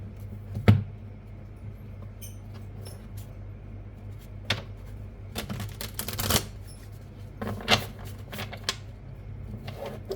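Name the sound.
shuffling and drawing tarot cards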